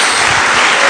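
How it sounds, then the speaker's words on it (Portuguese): A church congregation claps in a dense, loud burst of applause that fills the moment without a break. "Dê uma salva de palmas a Jesus."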